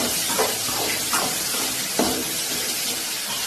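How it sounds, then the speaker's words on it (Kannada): Small brinjals frying in oil in a pan, a steady hiss and sizzle with a few soft stirring scrapes, close and continuous with no talking. "ಹಾಕೊಂಡು ಕ್ಲೀನ್ ಆಗಿ ಫ್ರೈ ಮಾಡಬೇಕು"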